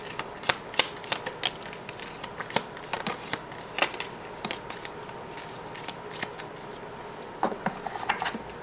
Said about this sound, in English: I'm gonna shuffle from this half